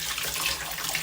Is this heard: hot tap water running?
yes